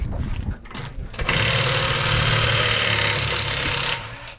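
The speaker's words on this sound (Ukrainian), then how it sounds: "Зараз знімаю колеса" A power wrench rattles and buzzes loudly for a few seconds while removing a wheel from a shelling-damaged car, after some brief clanking.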